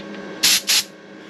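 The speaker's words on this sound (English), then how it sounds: "I also have the air compressor hooked up with some cool air so we can air quench it." An air compressor blows cool air to quench a weld on a 1952 GMC truck bed rust patch: two short, loud hissing blasts in quick succession over faint background noise.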